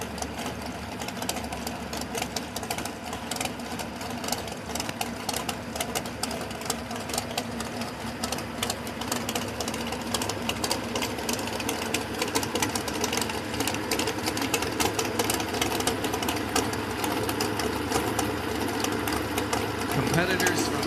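A pulling tractor engine at a 4-H fair tractor pull runs steadily with a loud, rapid mechanical clatter throughout, while an announcer talks over it.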